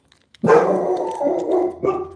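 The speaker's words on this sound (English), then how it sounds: "Hey, what are you barking at?" A dog barks close by in a loud, drawn-out series of rough woofs, one after another, with no talking, apparently at a neighbor.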